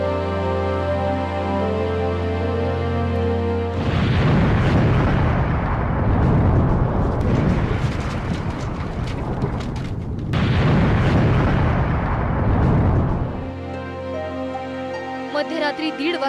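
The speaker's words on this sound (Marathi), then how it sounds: "त्यांच्यावर बॉम्ब वर्षाव केला।" Bombing in an airstrike by Pakistan on civilians in Afghanistan, heard as two long stretches of loud rumbling, crackling explosions over a tonal music bed, each lasting several seconds.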